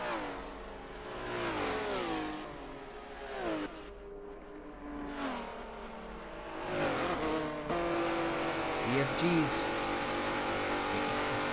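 GT4 race cars racing at Suzuka circuit, engines rising and falling in pitch through gear changes, one car drifting as others pass, loud and continuous under an ongoing commentator's voice.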